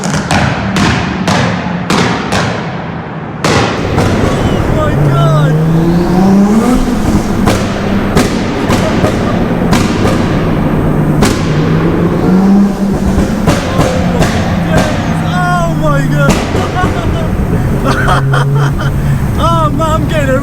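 A 700 bhp Nissan Skyline R33 and a supercharged Honda Civic Type R rev and roar inside a tunnel, with loud rising engine notes and echoing thumps under excited voices.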